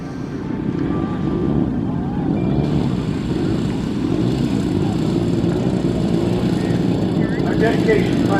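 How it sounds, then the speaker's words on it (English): A giant-scale Ziroli P-38 Lightning model warbird taxis at an airshow, its twin engines droning steadily and loudly throughout while a commentator talks over the engine noise. "let's let the P-38 taxi back"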